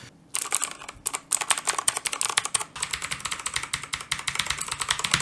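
Rapid, steady clicking of keys being typed on a Hansung Bossmonster KLV.77 mechanical keyboard with Outemu blue switches, close and crisp, with no talking.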